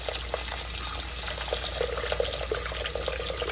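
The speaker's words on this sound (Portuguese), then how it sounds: "Agora eu coloco água." Water is poured steadily into a pot of beef and vegetable soup, making a continuous close splashing gurgle with no break.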